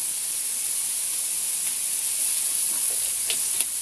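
Garlic and onion frying in a pan with a little oil, giving a steady, loud hiss and sizzle with faint crackles and no talking.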